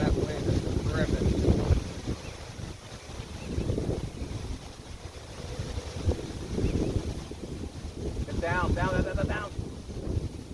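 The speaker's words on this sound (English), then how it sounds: "Man, that wind is terrific." Strong gusting wind buffets the microphone outdoors on a disc golf course, a steady broadband roar rising and falling throughout, with a voice talking in bursts over it.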